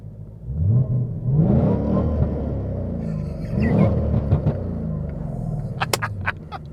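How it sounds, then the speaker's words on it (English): A Ford Mustang Bullitt's engine revs twice nearby, each time swelling into a deep rising roar and falling back to a rumbling idle, with faint voices and clicks near the end. "You want to give it a little rev?"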